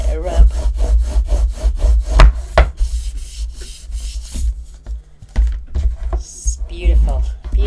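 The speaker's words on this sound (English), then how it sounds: "give it a rub." A hand rubs firmly along the edge of a paper card for a birthday book holder, giving a quick rhythmic scraping at first, then longer rough strokes, close and loud.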